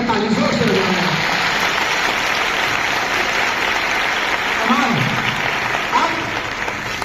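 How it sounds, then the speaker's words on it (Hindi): Loud, dense applause from a group of schoolgirls clapping for their teachers, a continuous wash of hand claps held at steady strength throughout, with a brief voice heard near the start. "एक बार अपने गुरुओं के लिए बेटा ताली जोर से बजाओ।"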